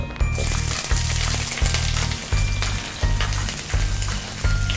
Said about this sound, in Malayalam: ജസ്റ്റ് ചൂടായിട്ട് സബോള ഇട്ടു.